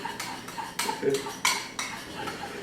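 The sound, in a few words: whisking honey and Dijon mustard in a bowl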